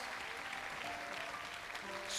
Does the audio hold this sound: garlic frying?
no